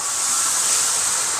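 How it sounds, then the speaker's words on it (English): A steak sizzles steadily in a hot pan, a continuous close, bright frying hiss with no pauses and no talk. "look at that sizzle."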